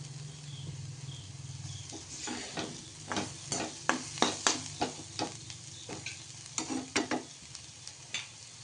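Chilli thecha frying in a pan and being stirred, a soft sizzle under a series of sharp scraping and clacking strokes that come in irregular bursts, close and clear.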